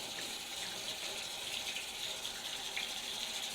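Tap water runs steadily into a kitchen sink while dishes are washed, a continuous even gush of splashing water with no voices.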